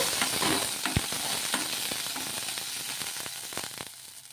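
Green chillies fry in a small amount of oil in a pan, giving a steady close sizzle and crackle with scattered sharp pops and spatters throughout, no talking.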